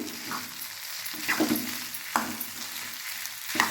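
Onions and potato sautéing in a pan for potato bonda, a steady close sizzle with a few sharp clinks of a spoon stirring against the pan, no voices.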